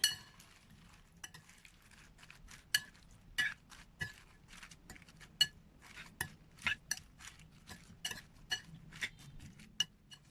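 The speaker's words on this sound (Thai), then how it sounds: "ทำการคนคลุกเคล้าส่วนผสมทุกอย่างให้เข้ากันเลยนะคะ" A spoon stirs and tosses Chinese cabbage with pork, oyster sauce, seasoning sauce and sugar in a dish before microwaving, making irregular sharp clinks and scrapes against the container, close up with no talking.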